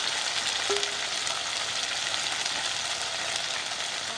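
Chopped tomatoes with chili powder, Kashmiri chili and salt fry in oil in a pan, giving a loud, dense, unbroken sizzle close by, with a faint stirring scrape and no voices.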